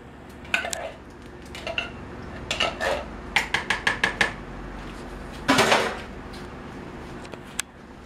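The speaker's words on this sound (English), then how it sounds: "then you add a can of northern beans. So in go your northern beans." Canned northern beans tipped into a metal pot for pasta fagioli, a burst of clattering metal and splashing around the middle, with scattered clinks of utensils and pot contact before and after.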